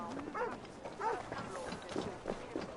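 Dog barks from the video game Assassin's Creed Valhalla, a few repeated harmonic yelps at a steady rhythm, moderately loud under a layer of game ambience.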